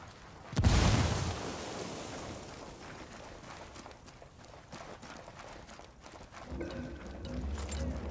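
A grenade goes off with one loud, close boom in Ghost Recon Wildlands, and a long rumbling tail follows, with scattered footsteps and movement underneath.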